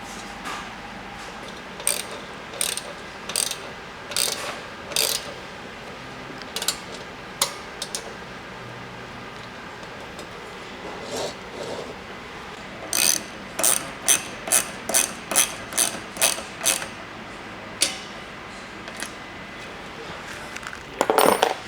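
A hand ratchet snugs up the side bracket bolts of a Sherpa Crestone roof rack on a Toyota 4Runner, with bursts of quick close clicking separated by pauses and some metallic handling noise.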